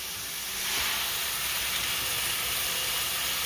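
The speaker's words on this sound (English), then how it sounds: "I have my stock up to a boil. I'm going to drop my rice down in." Rice dropped into stock already at a rolling boil gives a steady, close, loud hissing wash of bubbling and steam that swells slightly after the first moment and then holds evenly, with no voices.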